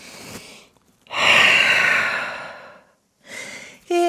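A big breath taken in downward dog during a vinyasa yoga class, a long, loud airy inhale-exhale lasting about two seconds, followed by a shorter breath, near and alone with no talk.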